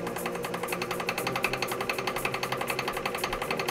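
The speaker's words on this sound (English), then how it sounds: "we're hoping that everything goes smoothly and this drill works like a charm" A power drill bores a hole through a wooden top plate, its loud, rapid, rhythmic hammering chatter running steadily and close by without a break.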